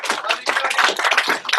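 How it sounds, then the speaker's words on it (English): A short burst of lively clapping from a nearby group, quick and uneven, fading slightly near the end. "Everybody give Cody a round of applause."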